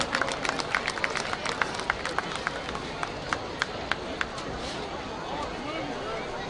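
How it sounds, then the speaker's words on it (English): Crowd clapping and cheering at a high school football game between the Musselman Applemen and Cabell Midland Knights, a broad wash of applause with sharp individual claps standing out over steady crowd noise. "Big round of applause."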